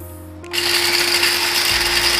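An electric spice grinder whirs into a loud, steady grind as it powders a mix of mace and nutmeg, starting abruptly after a brief lead-in and running continuously up close.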